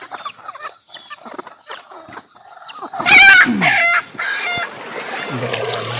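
Native chickens clucking close by in a rural yard, with a burst of loud squawking and cackling in the middle, then steadier clucks and faint background noise.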